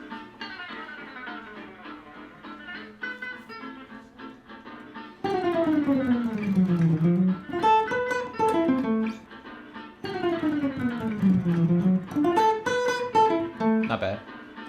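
Solo gypsy jazz guitar plays fast triplet licks, bright picked notes in quick runs and descending phrases, close and clear with brief pauses between repeated passages.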